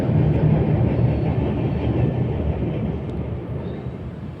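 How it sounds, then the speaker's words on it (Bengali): A Rajdhani Express train rolls past beside a river as a dense, continuous low rumble, loud at first and easing slightly as it goes on, with no voices. "সম্ভবত এটা রাজধানী ট্রেন যাচ্ছে"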